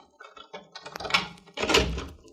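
A door opens in a radio drama set at a house where a reporter calls for Mr. Bradford, giving a couple of close wooden knocks and a thunk amid faint rustling.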